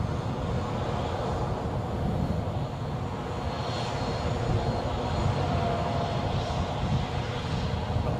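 A fixed-wing aircraft close up at Edinburgh Airport, its engines giving a loud, steady broadband roar that holds evenly for the whole stretch with no voices over it.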